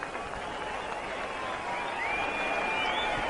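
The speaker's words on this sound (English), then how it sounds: "Huge cheer from the crowd" A cricket crowd in a stadium during an India match sends up a broad, steady roar of cheering that swells slightly toward the end, heard distantly and sustained across the whole moment.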